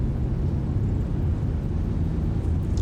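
Airplane engines roar steadily during takeoff in a VR flight simulator game, a loud, dense, continuous low rumble with no pauses and no voices.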